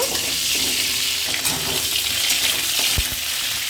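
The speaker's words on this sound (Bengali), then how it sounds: "পটল একটু হালকা ভেজে তুলে নেব।" Pointed gourd (potol) frying lightly in oil in a pan, a steady close sizzle with a few soft stirring knocks and no voices.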